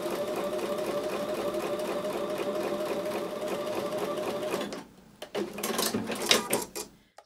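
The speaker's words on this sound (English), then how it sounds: "So I'll take that back to the sewing machine and sew the last seam." A sewing machine stitches the last seam of a diamond square quilt block, running steadily and loudly for nearly five seconds before stopping, followed by clattering handling noises of fabric and the machine.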